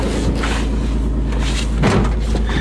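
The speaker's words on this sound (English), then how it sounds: "This door don't work." An old Toyota's rusty car door being pulled open, with a muffled clunk and scraping rattle over steady outdoor background noise, close by and without speech.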